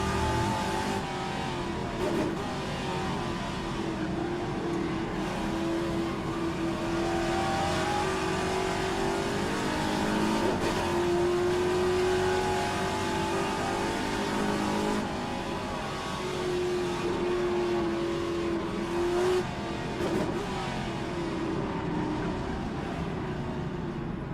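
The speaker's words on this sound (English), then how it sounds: "It's definitely a V8, whether it's a big block or small block, I don't know, but I'm pretty sure they're big blocks." Classic V8 Trans-Am race cars, likely big-block engines, racing at Mosport, with loud engines rising and falling as they rev and shift, passing close one after another with no talking.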